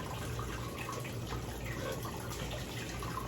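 Long-simmered turkey stock pouring through a chinois strainer, a steady continuous liquid rush with light splashing throughout, close and moderately quiet.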